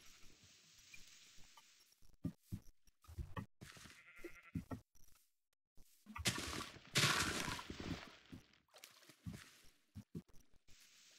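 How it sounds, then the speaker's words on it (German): Minecraft sheep bleat several times among clicky game sound effects and splashing, with brief silent gaps between the sounds. "Da schwimmen auch zwei mähende Tiere. Mähende Tiere. Und Schafe."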